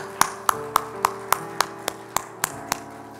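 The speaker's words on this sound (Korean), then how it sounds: "하나님께 영광의 박수 다시 한번 올려드릴까요?" Congregation at a Friday church worship service clapping in unison, a steady rhythmic beat of about three claps per second, sharp and evenly spaced over sustained organ or keyboard tones, with no voices.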